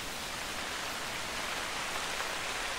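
Heavy rain in the hunting game theHunter Call of the Wild, a dense, steady hiss of downpour that stays constant and fairly soft throughout with no talk.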